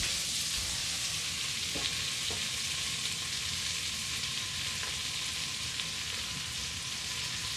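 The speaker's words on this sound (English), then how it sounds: "I'm gonna put my green onions in." Green onions sizzle steadily in a hot pan on a stove left on high heat, for a cornbread and vegetarian chili meal, a dense continuous frying hiss with a few faint clicks of stirring, close and alone without talk.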